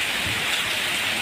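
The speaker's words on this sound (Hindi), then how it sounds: "बहुत ही ज़्यादा बारिश हो रही" Heavy monsoon downpour pounding steadily, with a dense, continuous hiss of rain that stays loud and unbroken throughout, and no voices.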